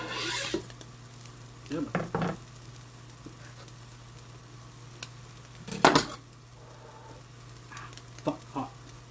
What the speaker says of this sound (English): I'll keep frying for a couple of seconds.